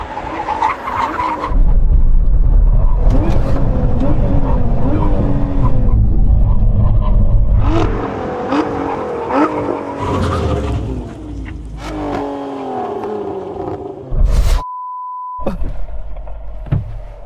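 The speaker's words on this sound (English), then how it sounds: "Get ready for the big old brake." A car in a drag race brakes hard from 100 mph, loud engine and tire roar followed by squealing, skidding tires as it slows, with rougher engine and wind noise afterward and a brief radio beep near the end.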